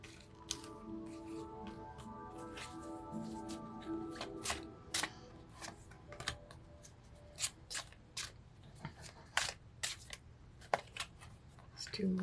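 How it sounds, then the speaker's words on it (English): Playing cards are shuffled and dealt by hand for a tarot-style card reading, giving a quiet run of soft riffles and irregular crisp snaps and flicks close by, with no talk. "I shuffle until I get 8 cards"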